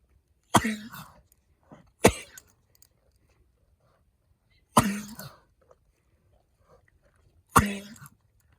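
Four harsh, explosive coughs from a miniature horse, spaced a second or two apart, each a sharp burst trailing off into quiet.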